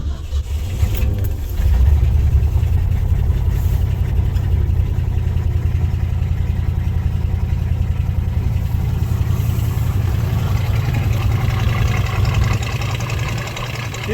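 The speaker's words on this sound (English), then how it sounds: "He's running, but super rich." A carbureted car engine just started and idling roughly while running very rich, a steady loud low rumble that holds close and continuous throughout.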